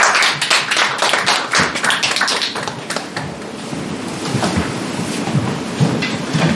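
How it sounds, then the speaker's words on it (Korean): Congregation claps at a Christmas joint church service, a burst of scattered, loud hand claps that thins out after a few seconds into a softer patter of applause. "하나님께 영광의 박수 올리겠습니다."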